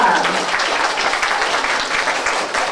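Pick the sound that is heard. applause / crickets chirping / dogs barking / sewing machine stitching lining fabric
applause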